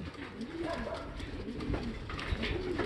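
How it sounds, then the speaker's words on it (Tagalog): A pigeon with a wound on its chest coos softly in low, rolling calls, repeated a few times over quiet background noise. "Tol Andre, ibon mo ito bumalik, kaso ano, may tama sa dibdib"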